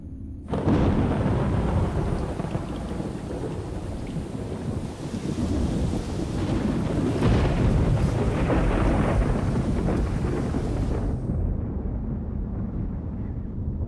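A heavy thunderstorm breaks a long drought, with loud continuous rain and wind roaring alongside rumbling thunder that swells and fades, the downpour steady and close for most of the stretch before easing near the end.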